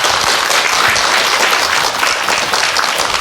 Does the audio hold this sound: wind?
no